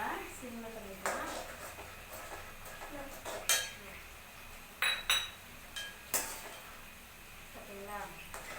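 A utensil scrapes and clinks against a pan while kesari is stirred in ghee, with sharp metallic knocks and clatters scattered among quieter scraping, and a voice speaking in the background.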